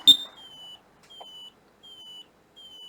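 An ADT alarm keypad gives a short sharp click, then a steady run of evenly spaced electronic beeps, each about half a second long, clear and fairly close in a quiet room.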